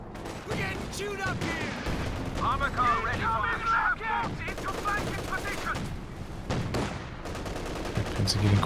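A Puma armored vehicle fires its cannon in the video game Company of Heroes 2, among repeated booming shots and battle noise, while a commentator talks over the action.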